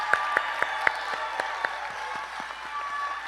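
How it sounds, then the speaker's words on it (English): At a high school graduation ceremony, the audience applauds the cum laude graduates, a continuous wash of crowd clapping with several crisp nearby claps, a few high whistles and cheers, and a thin steady tone underneath. "A big round of applause to our cum laude honors"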